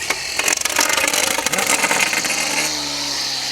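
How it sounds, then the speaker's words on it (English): A DeWalt string trimmer whirs steadily near the microphone while its freshly restrung line feeds out, tensions and slaps against the shroud, giving a buzzy, rattling cut that settles into a smoother drone; a brief word is spoken. "that little noise you heard is the string coming out and tensioning up and cutting on the shroud"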